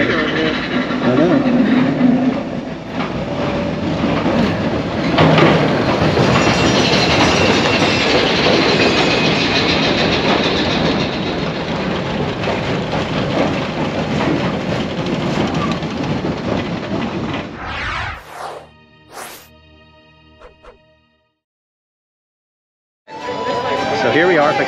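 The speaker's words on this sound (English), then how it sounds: "Here we are fixing to ride Big Thunder Mountain Railroad" The Big Thunder Mountain Railroad roller coaster train at Magic Kingdom rumbles and clatters loudly and continuously on its track, then fades away into near silence, with people talking nearby.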